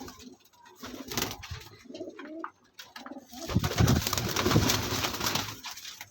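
Pigeons coo repeatedly in a loft in Faisalabad, Pakistan, the soft throaty calls layered and continuous, growing fuller and louder in the second half with some rustling around them.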